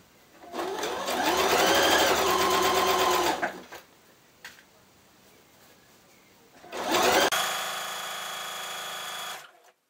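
Electric sewing machine hemming a strip of fabric, two close bursts of rapid mechanical stitching, one about three seconds long and a second about three seconds later, with a quiet pause between and no talking.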